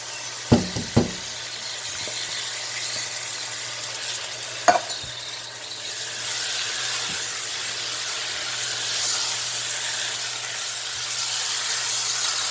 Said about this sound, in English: now I'm going to add 1 can of fire roasted diced tomatoes